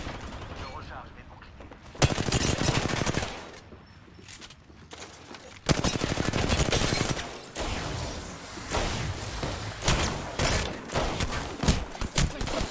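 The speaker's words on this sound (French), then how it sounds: "Ils m'ont repéré. Je suis sous le feu." Rapid bursts of gunfire in a video game shootout, loud and dense, with sharp volleys starting about two seconds in and again near six seconds, continuing in clustered salvos to the end.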